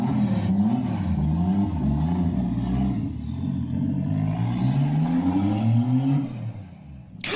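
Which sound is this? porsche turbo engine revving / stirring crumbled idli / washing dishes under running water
porsche turbo engine revving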